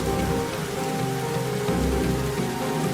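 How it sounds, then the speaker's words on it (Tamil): Heavy rain pours steadily and loudly onto a surface, a dense, continuous hiss with a low rumble underneath, and no voices. "இத்தனை மழையில நனைஞ்சிருக்கேன்"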